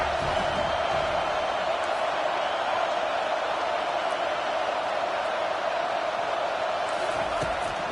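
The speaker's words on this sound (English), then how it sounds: "the crowd bringing the energy, trying to help this defense get off the field on 3rd and 10" Stadium crowd noise at a football game on a third-and-ten defensive stand, a steady dense roar that holds at an even level throughout, loud and continuous with no clear breaks or peaks.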